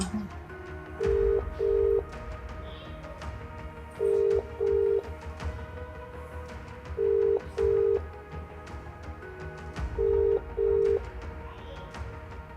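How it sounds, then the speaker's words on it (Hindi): A telephone call goes unanswered, the ringback tone repeating in steady double pulses about every three seconds, moderately loud over a quiet hiss, with no one picking up. "मैं पार्थ को फ़ोन मिलाती हूँ"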